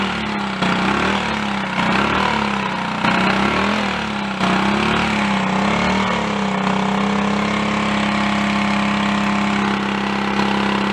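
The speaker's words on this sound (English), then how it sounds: "It's responding to the throttle now with a choke off." A Honda CD175 motorcycle engine running on only one cylinder revs up and down in repeated swells, then settles into a steadier, loud, close-up drone.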